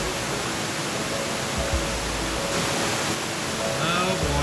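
A waterfall at a secluded hideaway roars as a broad, continuous rush of falling water. The sound is loud and steady, with a few faint background sounds near the end.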